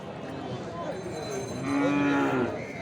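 A four-tooth-aged cow, sold together with her calf at a cattle market, lets out a single drawn-out moo over a busy background murmur.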